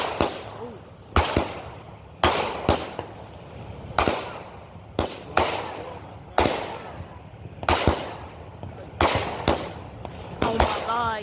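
Outdoor fireworks going off at a fireworks competition, with a series of sharp, loud cracks and bangs at irregular intervals, each followed by a hissing tail, under excited talking.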